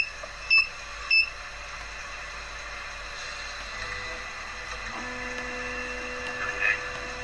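A Cetus 3D printer initializes and homes its axes, giving two sharp beeps followed by a steady motor whine and faint stepper hum that shifts in pitch, ending with another short beep.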